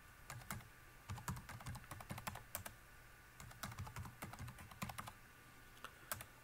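Quiet clicking of a password being typed on a computer keyboard during a Solaris installation, with short bursts of keystrokes, a brief pause, then more taps.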